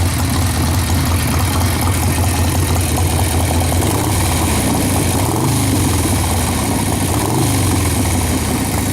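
A motorcycle idles steadily while warming up after a ride home, a loud, close, continuous rumble with no one talking over it.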